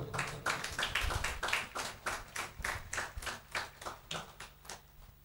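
A church congregation claps during a revival service, a steady rhythmic beat of loud, close handclaps of around two to three per second, with no one speaking over it.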